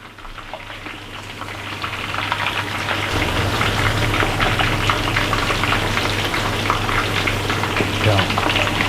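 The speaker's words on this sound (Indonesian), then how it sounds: "satu baksonya mungkin kurang lebih kita butuh waktu sampai 6 menit untuk menggorengnya ya" Homemade chicken meatballs (bakso ayam goreng) sizzle in hot oil, a dense crackling hiss that swells in the first few seconds and then holds steady and loud, with a low hum underneath.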